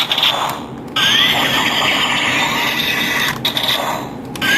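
A Kamen Rider Double DX Metal Shaft toy baton gives a shrill electronic effect with a buzzing, whirring tone and rising squeals, sustained with short breaks, loud and close.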